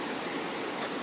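A large river in the Colombian countryside rushes steadily nearby, a dense, continuous wash of flowing water with no pauses and no voices.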